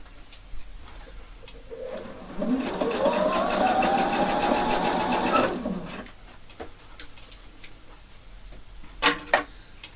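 A sewing machine stitching a ribbon onto bias band runs steadily for about three seconds mid-clip, with quieter clicks and handling noises before and after.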